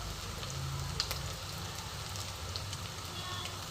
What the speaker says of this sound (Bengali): দেখো বাকিগুলো ভাজা হচ্ছে